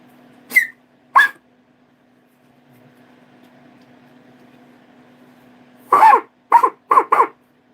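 A voice imitating a dog's yelps: two short high yelps, a pause with a faint steady hum, then a quick run of three or four close, loud yelping cries.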